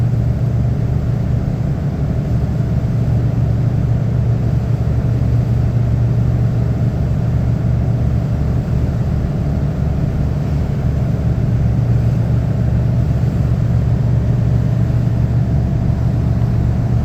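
A jet ski or small boat engine on the Seto Inland Sea, heard from a ferry as a steady low droning rumble that runs unbroken throughout and sits under constant wind and water noise.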